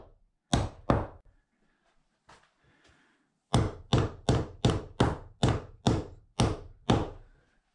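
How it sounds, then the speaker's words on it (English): Hammering overhead during an RV interior remodel: two blows, a pause with faint rustling, then a steady run of about nine sharp, close, evenly spaced strikes. "Not good at hammering over my head."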